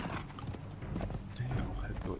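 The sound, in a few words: horse hooves clip-clopping in Conan Exiles video game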